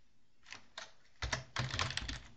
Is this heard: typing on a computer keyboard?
yes